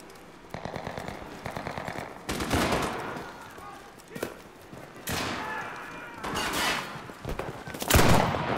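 Machine gun fire in the World War II shooter Enlisted, set in a Pacific battle, with several bursts of rapid shots and heavy thuds rising and falling over about eight seconds, loud and close.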